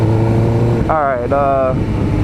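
A car passes by on a road, its engine note briefly rising and then dropping over a couple of seconds, heard over a steady low idle rumble nearby.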